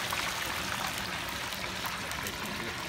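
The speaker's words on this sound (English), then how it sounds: "Does it ever stop bubbling like that?" Hot oil bubbles steadily while a turkey deep-fries, producing a continuous dense fizzing and crackling hiss at moderate level.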